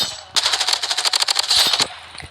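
Rapid automatic gunfire in the shooter video game Blood Strike, a fast burst of around fifteen sharp, evenly spaced shots lasting about a second and a half, loud and close, followed by a few faint clicks.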